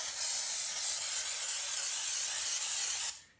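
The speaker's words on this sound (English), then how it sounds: "the best way to prevent that from happening is spraying from the inside outwards." Cleaner sprayed onto a Harley Davidson Screaming Eagle air filter, one continuous close, bright hiss lasting about three seconds before cutting off.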